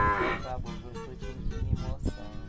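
A cow moos several times in close succession, loud and near, with long droning calls rising and falling over a farm setting, with no talking.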